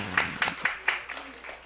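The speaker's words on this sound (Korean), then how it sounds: "박수 한번 쳐줘요." A brief burst of sparse clapping, a handful of sharp claps in quick succession, fairly quiet and fading out.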